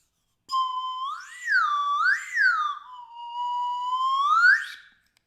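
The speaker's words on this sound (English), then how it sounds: "This is my celebratory wooden pin whistle." A wooden pin whistle played solo, a clear, pure tone sliding up and down in a few swooping phrases, close and moderately loud, ending on a rising squeal.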